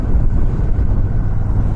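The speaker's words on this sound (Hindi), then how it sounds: "बहुत ही तेज़ हवा है" Strong wind buffets the microphone on a bridge near Dhanushkodi, a dense, steady low roar with no other sounds over it.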